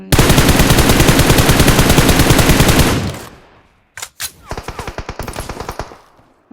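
Automatic rifle fire in the mobile battle-royale game PUBG Mobile, a loud sustained burst of rapid shots that cuts off, then after a short gap resumes as shorter choppy bursts.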